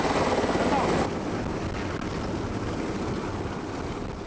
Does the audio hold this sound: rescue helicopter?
yes